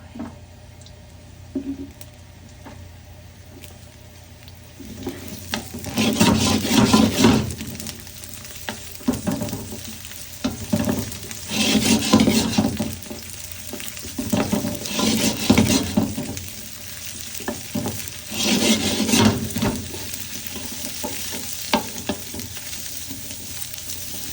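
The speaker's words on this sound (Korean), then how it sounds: "약간의 예열이 되면은 가지를 넣고 볶아주시는 거예요" Eggplant stir-fried in a preheated pan with plenty of oil, loud bursts of sizzling and frying rising and falling as the pieces are stirred and tossed, separated by quieter stretches of low hiss.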